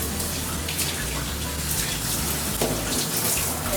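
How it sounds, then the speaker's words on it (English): Water runs steadily while shampoo and conditioner are rinsed off a Shih Tzu's face during grooming, a close, continuous splashing spray. "rinse off her face one good time. Make sure all that shampoo and conditioner is off"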